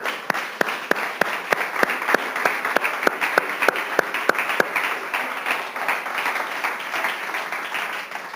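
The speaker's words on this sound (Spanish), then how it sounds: "Démosle un aplauso, Señor" Applause breaks out from a church congregation during a sermon, starting with sharp, distinct claps that quickly thicken into a dense, sustained round of clapping, close and fairly loud with no voices over it.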